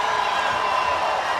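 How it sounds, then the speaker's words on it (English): A loud, steady roar of a crowd fills the gym in Columbus at the 2013 Ohio Division IV girls' basketball state championship game, with a voice faintly mixed into the continuous noise. "Crowd in Columbus loving this D4 state championship game"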